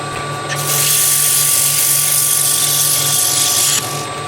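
A skew chisel takes a light cut on surface-treated wood spinning on a lathe, a steady bright hiss that starts after a brief pause and runs continuously for about three seconds before stopping, over the lathe's constant hum.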